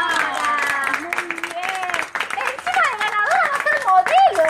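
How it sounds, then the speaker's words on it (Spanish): Clapping from a small group of women breaks out for a raffle winner, mixed with excited chatter, laughter and voices talking over the applause throughout. "chicas, un aplauso para la ganadora"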